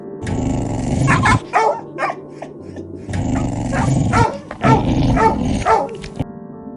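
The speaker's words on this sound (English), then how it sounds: "loud, invisible dog fights inside the house" Dogs snarl, growl and bark aggressively in two loud bursts separated by a brief lull, close by, sounding like a scuffle.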